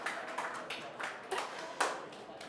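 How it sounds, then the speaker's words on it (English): Audience applause at a business summit session, steady scattered clapping from a crowd with a few louder individual claps standing out, moderately close and brief. "Big hand of applause to Faiza Seth from Avant-Garde"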